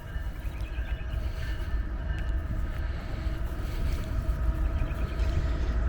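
A Union Pacific freight train passes on the tracks beside the Illinois Prairie Path in Glen Ellyn, a steady low rumble with wind noise that holds the whole time and swells slightly toward the end, with no voices.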